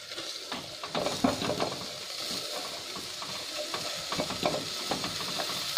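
Fenugreek leaves sizzle in hot oil in a pan for a mixed leafy vegetable curry, a steady close crackle broken by repeated scraping stirs, with no talking.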